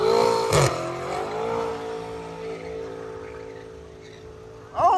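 A BMW revs up and drives past, its engine note rising and sustaining loudly, then fading to a lower drone before another sharp rev bursts in at the end.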